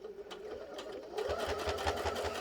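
A sewing machine back stitches a small lip balm pouch, starting softly and then running in a steady, close, rhythmic stitching burst. No voices are heard.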